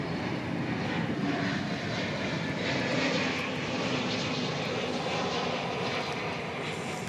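A fixed-wing airliner on final approach to land at DFW Airport gives a steady, broad engine roar that holds constant and moderately loud in calm weather, with no voices.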